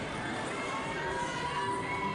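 A steady roar from a crowd of fans at a live wrestling show in Allentown, Pennsylvania, with indistinct cheering and shouting spread evenly throughout and no single voice standing out.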